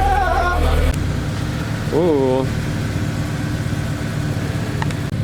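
A Honda S2000 fitted with an HKS Hi Power exhaust idles with a steady, low, loud drone, while a voice briefly exclaims over it near the start and middle.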